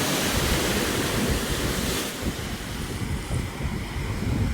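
Ocean surf rolling in at Magra Beach in Real, Quezon, a steady broadband wash of breaking waves with wind noise on the microphone, continuous and fairly loud with no voices.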